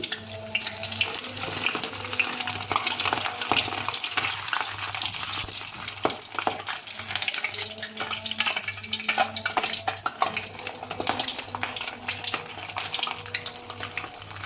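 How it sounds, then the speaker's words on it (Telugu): Semolina vadas frying in hot oil, a steady crackling sizzle with bursts of bubbling throughout, close and continuous. "బాగా గోల్డెన్ బ్రౌన్ కలర్ వచ్చేంత వరకు వేయించండి."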